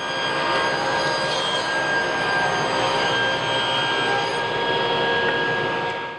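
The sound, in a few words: table saw with 24-tooth ripping blade ripping cherry hardwood boards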